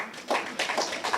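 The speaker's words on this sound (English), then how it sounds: "We can give you a round of applause." A small audience claps for participants at a youth music-business enterprise program event, a brief burst of close, uneven hand claps with no voices.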